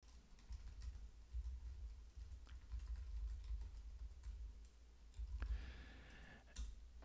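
Fingers tap out an email address on a computer keyboard, a quiet run of light keystroke clicks with brief pauses over a low steady hum, no talking.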